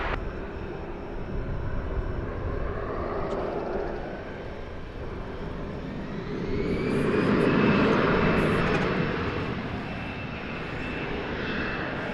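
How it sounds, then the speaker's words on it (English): A Delta Airbus A319 jet takes off from Dallas Fort Worth airport with a loud, steady engine roar that swells to a peak mid-way and then eases as the aircraft climbs away. "It's an Airbus A319. It is going to Salt Lake City in Utah."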